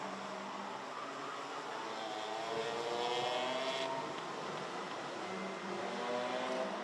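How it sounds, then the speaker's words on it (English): A distant racing kart engine drones steadily with a buzzing, raspy noisy-exhaust note that rises slightly, heard faintly from afar on a race circuit, with no talking. "There is a cart, possibly with a noisy exhaust."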